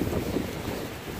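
Strong hurricane wind by the sea in Turkey, a dense roaring rush buffeting the microphone, steady and close with no voices.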